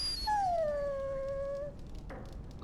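A dog in Dragon Age: Origins lets out one drawn-out, high whimpering whine that slides downward, close and clear, followed by a faint rustle.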